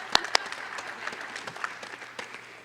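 Scattered applause from a small audience at a university nursing recognition ceremony, a couple of sharp claps up front followed by light, thinning clapping that fades over a few seconds.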